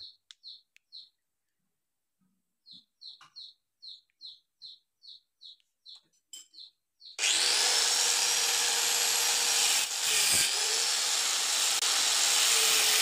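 A loud, continuous grinding roar of an angle grinder cutting metal, removing copper from a grinder armature, starts partway through after several short, evenly spaced chirps.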